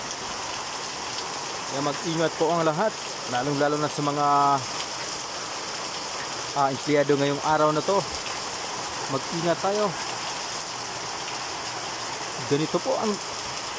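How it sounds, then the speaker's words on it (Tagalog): Very heavy rain from Typhoon Enteng pours down in a dense, unbroken hiss. Someone speaks in Filipino over it at intervals. "Sobrang lakas ng ulan."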